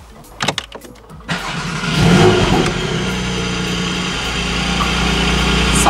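A Porsche GT4 engine cranks with a few sharp clicks, catches and fires up, then holds a loud, steady rev close by, flaring briefly before settling into a strong, sustained drone with no one talking.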